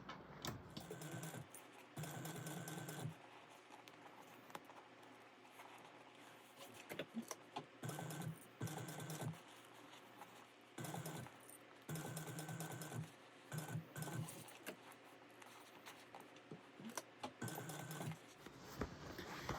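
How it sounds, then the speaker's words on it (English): A sewing machine stitches around a layered fabric bag at a quarter-inch seam, heard as soft, close runs of mechanical whirring in several separate bursts with quiet gaps between them. "we're going to sew around again at a 1/4 inch seam allowance"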